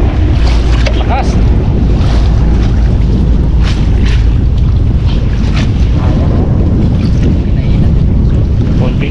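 A boat engine runs loud and steady out on open water, its low drone mixed with wind buffeting the microphone and the wash of waves, with no break across the stretch.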